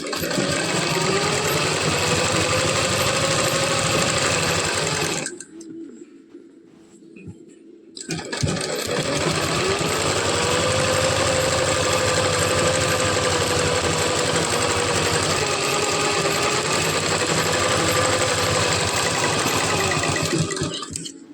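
A sewing machine runs in a long continuous whir while stitching a belt blouse, stopping for a couple of seconds partway through before resuming and running steadily to the end.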